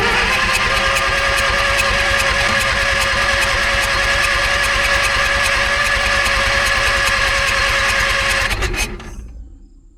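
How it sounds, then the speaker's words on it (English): A used engine-driven welder's engine turns over steadily under the starter, a loud, even mechanical chugging that runs for several seconds and then winds down and stops. "I'm going to crank the engine over a little bit and see if it comes out then."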